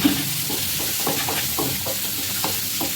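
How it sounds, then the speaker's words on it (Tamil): Onions sautéing in a pan for fish curry in a bachelor-room kitchen, a continuous close sizzle broken by regular scraping stirs of a spatula, with no talk. "நெக்ஸ்ட்டு கொஞ்சம் நேரம் வெங்காயம் வதங்கணும்."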